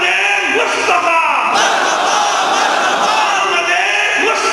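A large crowd at a milad gathering chanting religious slogans (naara) in unison, a loud, dense continuous roar of many voices from start to finish.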